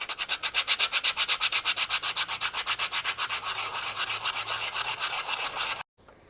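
Sandpaper scrubbing a motorbike brake pad in quick, steady back-and-forth strokes, close and crisp, about forty rasping passes before stopping abruptly.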